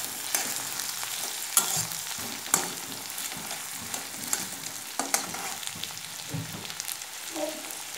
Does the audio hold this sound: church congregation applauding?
no